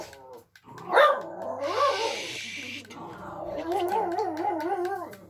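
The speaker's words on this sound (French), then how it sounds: "Désolé, c'est le chien." Pet dog barking and whining indoors beside someone gaming, a sharp bark then drawn-out wavering whines and yelps, close and fairly loud, with someone speaking French over it.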